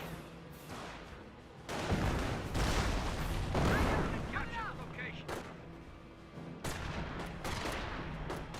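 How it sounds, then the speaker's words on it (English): Mortar half-track shells striking a sniper in Company of Heroes: a heavy booming impact with rumbling debris, followed by further muffled blasts and scattered gunfire, all under steady game ambience with some voice chatter. "Snipers do get peppered up by the mortar half track."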